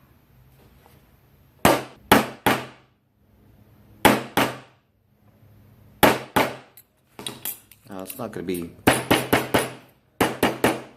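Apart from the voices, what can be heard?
hammer striking a stamp into silver for feather impressions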